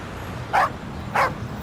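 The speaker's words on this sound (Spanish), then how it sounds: "El perro de ese hombre es muy grande." On a city street, a big dog and a small dog trade two short, sharp barks about half a second apart, close by over faint traffic hum.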